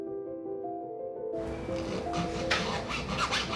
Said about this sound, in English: he uses burrs that will cut through the metal that is currently holding the diamonds in place